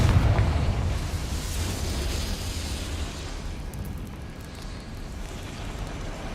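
A Confringo blasting spell explodes in Hogwarts Legacy, a loud, full roar that hits at once and then rumbles and slowly fades over several seconds.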